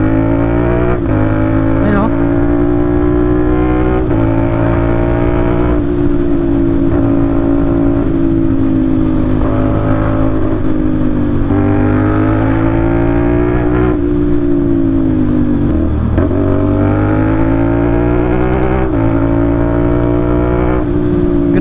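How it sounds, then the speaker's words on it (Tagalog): A 2024 CF Moto NK450 motorcycle engine drones loudly and continuously, its pitch rising and dropping repeatedly as it revs toward redline and shifts through gears, with no talking. "Grabe yung makina niya, gustong gusto niya talaga, nire-rev siya, sinasagad siya."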